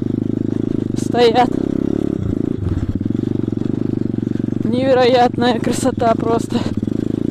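A pit bike's engine drones steadily and close throughout a winter ride through a snowy forest, with someone talking over the constant hum.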